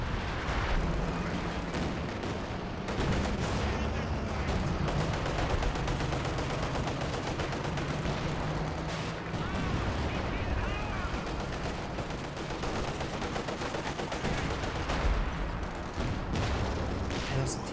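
Artillery barrage from a leIG 18 infantry gun in Company of Heroes 2, with repeated booming impacts and crackling gunfire running through dense battle noise as a commentator talks over it.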